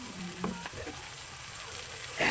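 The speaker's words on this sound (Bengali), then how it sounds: "তেল দিয়ে পেঁয়াজটা মরিচগুলো ভেজে নিচ্ছি" Onions and chilies frying in hot oil in a home kitchen, a soft steady sizzle with a few scraping stirs, close and fairly quiet with no talking.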